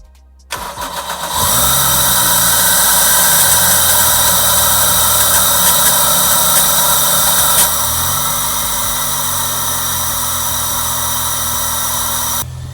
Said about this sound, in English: So let's go ahead and give her a first start.